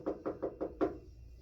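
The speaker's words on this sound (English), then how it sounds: "there was a knock at the door." Five evenly spaced knocks on a door, soft and muffled, the last one slightly harder, with quiet room tone after.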